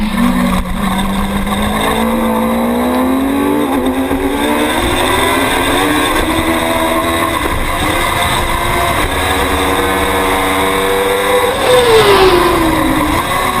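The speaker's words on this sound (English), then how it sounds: "Leaving Mosquera all by himself in third position in 750 Superstock." 750 Superstock racing motorcycles scream past on a road-racing circuit, their loud engines rising and falling in pitch as they rev through the gears. One bike sweeps close by near the end.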